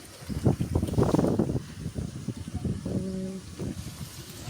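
Gusty wind with rain outside a house window buffets loudly in uneven bursts, with a rushing, blustery roar and a brief faint tonal hum partway through.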